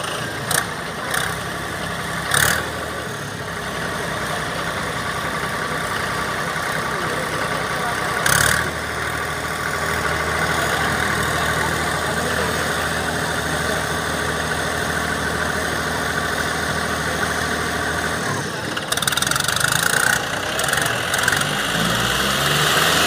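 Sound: tractor engines running at tug-of-war contest

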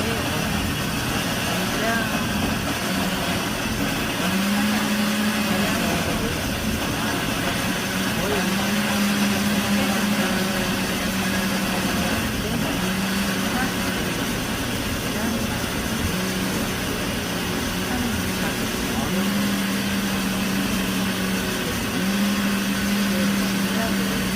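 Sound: blender grinding ingredients for young radish kimchi

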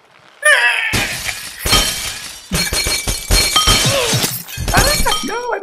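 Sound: glass shattering in Happy Wheels video game

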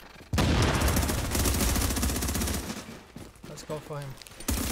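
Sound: gunfire in video game The Division

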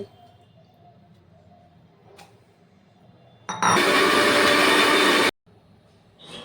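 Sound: blender grinding ginger with green and dried chillies

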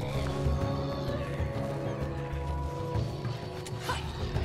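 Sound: horse in the video game God of War Ragnarök

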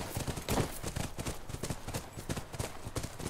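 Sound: horse hooves in video game The Last of Us

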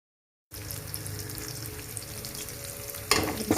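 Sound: small onions and green chillies frying in a pan

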